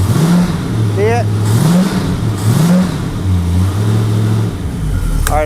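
An Oldsmobile 350 Rocket V8 runs on a homemade engine run stand, holding a steady, loud idle with a low, lumpy rumble close by throughout, and a voice speaks briefly over it.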